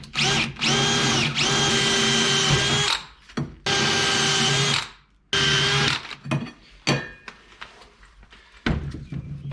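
A power drill bores pilot holes while a custom transmission is mounted in an LS-swapped 1951 Chevy Fleetline, with several loud, sustained whirring bursts, brief stops and restarts, and small clicks between runs.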